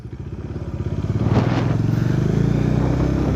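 A motorcycle leaned over in a tight turn during licence-course riding practice. Its engine is close and loud, with a throbbing idle that rises into a steady rev, plus a light scrape or clatter partway through. No one speaks.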